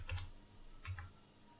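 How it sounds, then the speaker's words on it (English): Two quick taps on computer keyboard arrow keys, close and faint, spaced under a second apart in a quiet room. "So I will move using keyboard arrow"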